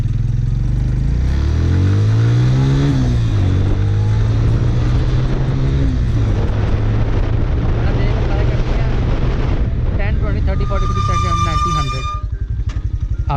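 A Suzuki GS 150 motorbike brakes hard using only the front brake, its engine roar dropping as it slows, followed by a brief squeal from the brake without any tyre skid.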